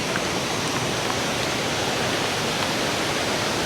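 Kuang Si waterfall in Laos pours into a jungle lagoon with a steady, dense roar of falling water, loud and unbroken, with no voices.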